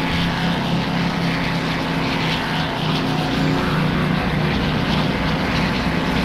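Simulated Spitfire Mark I propeller engine roaring steadily at full power during takeoff, a loud continuous drone with no gaps.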